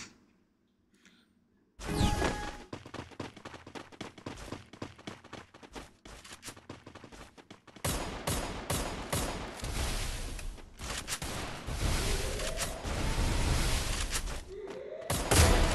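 Gunfire in the mobile battle-royale game Free Fire: after a short quiet start, dense bursts of rapid shots crackle on and off, then grow louder and more sustained as heavy automatic fire continues to the end.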